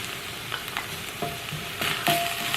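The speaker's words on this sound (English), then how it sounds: "So I'll fry this just for a few seconds." Spices including red chili pepper, coriander and turmeric fry in a pan with steady, close hissing sizzle, broken by a few soft stirring scrapes, no speech.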